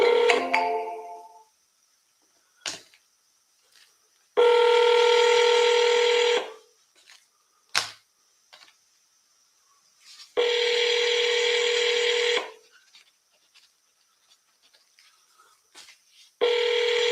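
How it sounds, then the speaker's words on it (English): Touch-tone dialing beeps followed by repeated ringback tones of an outgoing telephone call, several long ring bursts separated by quiet gaps, loud and close, with no talk. "Maybe I'll call 5 more of these because we gotta get some calls."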